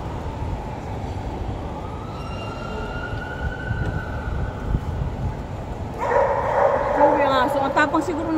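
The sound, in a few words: dog barking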